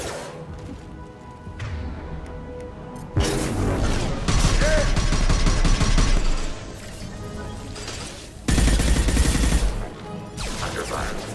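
Automated defense turrets firing in Mass Effect Legendary Edition: loud, dense bursts of gunfire and crashing impacts in a combat mix, surging in heavy blocks with short quieter gaps between.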